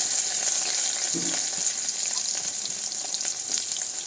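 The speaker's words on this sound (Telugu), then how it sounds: "ఇప్పుడు బాగా వేపుకోవాలండి." Onions, green chillies and drumstick pieces frying in a pan, a steady bright hiss of sizzling oil with a few soft stirring scrapes.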